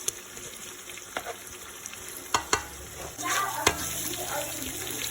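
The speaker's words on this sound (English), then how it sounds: "it's gonna fry and it's gonna fry down" Spinach fries in a small amount of oil in a pan with onion, giving a soft, steady sizzle broken by a few sharp clicks and scrapes of stirring, fairly quiet and close.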